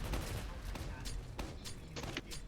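Rapid gunfire in a co-op shooting video game, dense overlapping shots and bursts close and loud, with a voice speaking over the battle.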